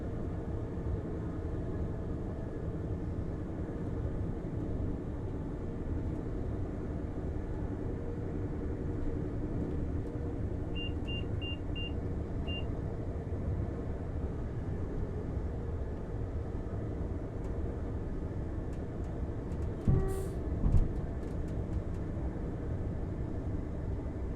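A Hitachi train running at speed near 100 mph on the Exeter St Davids to Plymouth line in Train Simulator: a steady, even rumble and rushing drone throughout, with a few faint cab beeps and a brief clunk near the end.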